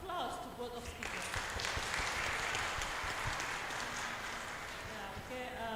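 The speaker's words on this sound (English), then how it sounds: "I kindly invite you all to give a very big and warm applause to both of speakers." A seminar audience gives a warm round of applause to two speakers, steady clapping with a few voices and bits of speech mixed in over it.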